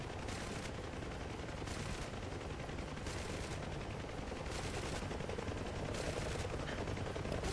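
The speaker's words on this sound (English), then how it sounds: "My gunners are shooting." Door gunners on a UH-1 Huey helicopter in DCS fire machine guns in a night operation, a steady dense chatter of automatic fire blended with the rotor and engine roar throughout, fairly faint and with no talk.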